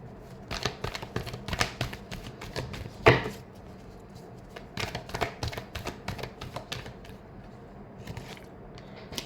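A deck of tarot cards gets a final shuffle: crisp, papery riffles and clicks come in quick bursts, close to the microphone, with one louder snap midway.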